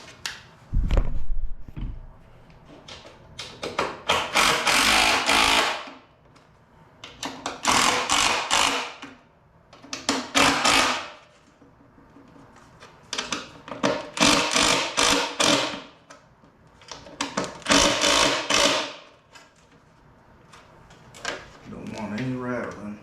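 Bolts being tightened on a DRW skid plate fitted to a Honda TRX450R quad, in bursts of ratcheting and clicking separated by short pauses, close and fairly loud.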